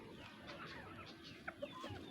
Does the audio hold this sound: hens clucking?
yes